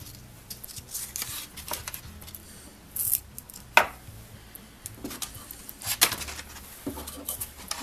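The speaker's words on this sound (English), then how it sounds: "You just lay the steel on top of it and use it as a template to tear off the paper." Paper is torn along the edge of a steel plate used as a template on a workshop bench, giving a run of scattered close rips and crinkles with a few sharper snaps, and no talking.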